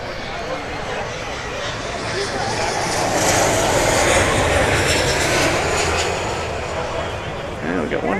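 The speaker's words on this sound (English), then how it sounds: "And we got one final plane" A fixed-wing airplane passes overhead at a plane-spotting gathering, its engine roar swelling loud and broad, peaking midway and then fading slightly, with people talking underneath.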